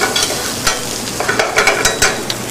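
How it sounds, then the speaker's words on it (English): Sliced shallots sizzle in olive oil in a pan, a soft steady crackle broken by occasional stirring scrapes and pops, close and alone with no talking. "Sliced shallots are sweated in olive oil."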